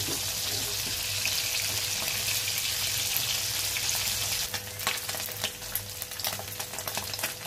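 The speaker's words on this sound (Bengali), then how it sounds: "কই মাছগুলো ভালো করে ভাজবো।" Native koi fish frying in oil in a pan, a steady close sizzle with a faint low hum, turning to crackling, spattering pops in the last few seconds.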